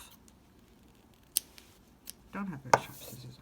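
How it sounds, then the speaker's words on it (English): A couple of quick, crisp snips from scissors that are not very sharp cutting yarn from a crocheted mug cozy, short and close, in an otherwise quiet room. "I'm going to cut that off."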